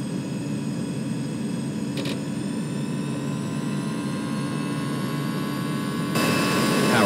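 Airbus A320 jet engines spool up for takeoff in the X-Plane 11 flight simulator, a steady loud turbine roar with rising whine tones that swells further near the end.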